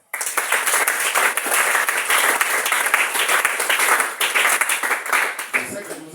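A church congregation breaks into applause, a dense burst of many hands clapping together that carries through the space for several seconds and tapers slightly at the end.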